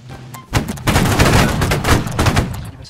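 Sustained video game gunfire in a multiplayer shooter, a dense loud volley of overlapping shots and bursts after a brief quieter opening, with no talk.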